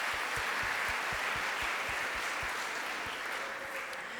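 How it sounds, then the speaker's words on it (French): An audience at a Gospel teaching session applauds one another: dense, steady clapping that fills the whole stretch at an even loudness, with no voices standing out. "Donc vous pouvez déjà vous applaudir les uns les autres."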